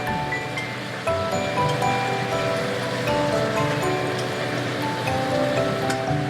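Water poured into egg curry (dim kosha) in a hot pan makes a broad, steady rushing sizzle that swells slightly and stays loud and close throughout, with no speech.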